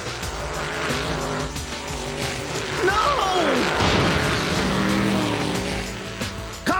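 Cartoon dune buggy speeding away with tires squealing and skidding, a sweeping engine pass over busy scene noise, with a shout in the mix.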